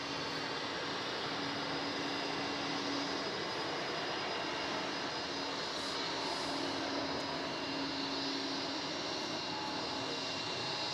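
Airbus A350-900 jet engines spooling up at Melbourne Airport, a steady, distant broadband roar with a faint tonal whine that holds evenly throughout.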